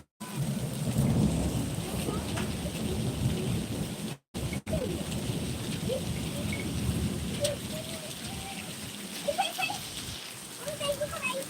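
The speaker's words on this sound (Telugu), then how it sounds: "ఇటీసారా ఎంత వర్షం స్టార్ట్ అవుతుంది" Heavy rain mixed with hail falls in Kashmir as a dense, steady patter on surfaces, with a brief gap partway through and a few bird calls over the constant rush.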